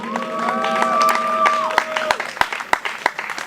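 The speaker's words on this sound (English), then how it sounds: "Round of applause for King David." A small audience applauds performer King David, with scattered, distinct claps growing sparser toward the end and a sustained tonal sound fading out early on.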